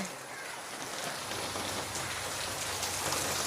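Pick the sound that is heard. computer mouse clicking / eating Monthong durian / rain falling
rain falling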